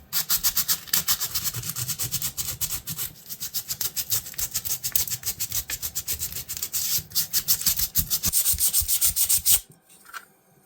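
Sandpaper scrubs rust off an antique fisherman knife in quick rhythmic back-and-forth strokes, close and steady for about nine seconds before stopping abruptly, leaving faint handling noise.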